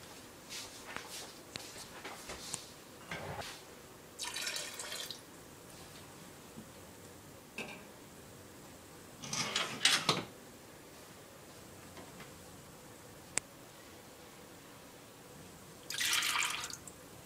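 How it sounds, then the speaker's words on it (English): Heated water poured onto raw goat milk curds in a Gouda cheese make, heard as soft intermittent splashing and dripping bursts with quiet pauses between, fairly faint and with no talking. "Now we're going to pour a little bit of the water up until we get the curds to 90 degrees."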